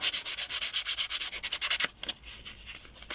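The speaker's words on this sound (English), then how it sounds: "You can very gently just go over it on the top with the nail file" A nail file rubs gently back and forth over tissue paper on a decoupage tag, a close rapid series of scratchy strokes in steady rhythm that slows and softens near the end.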